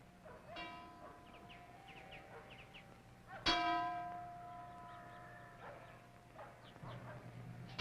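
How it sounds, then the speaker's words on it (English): Bells and tom-toms marking the hours at a remote jungle mission hospital: a ringing metallic strike with a long harmonic decay rises at mid-clip, over a fainter earlier tone, dog barks and low background hum. "Bells and tom-toms announce the time for each new activity as our day progresses."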